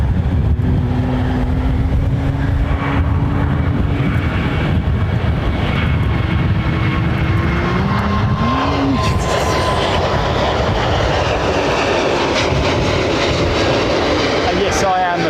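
Airliner jet engines spool up at London Heathrow Airport in a loud, continuous roar with a rising whine, heard from outdoors amid wind and someone talking.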